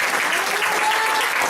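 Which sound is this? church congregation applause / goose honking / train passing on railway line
church congregation applause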